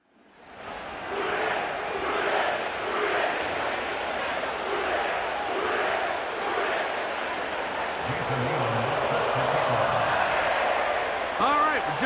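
Stadium crowd roar in an EA Sports football video game, a steady, loud wash of cheering and chanting rising in rhythmic swells, with a voice breaking in near the end.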